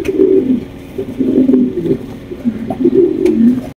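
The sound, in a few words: pigeons cooing, Maltese fancy pigeons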